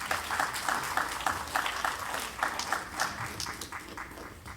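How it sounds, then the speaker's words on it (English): An audience at the Belize International Film Festival claps for the jurors, a moderate, even round of applause with a rhythmic pulse running through it, lasting several seconds without speech. "Give them a big round of applause"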